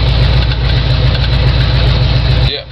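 A 1974 Ford F100 truck with a 351 Windsor V8 and C4 transmission runs loud and close, a steady deep engine rumble that drops away abruptly near the end.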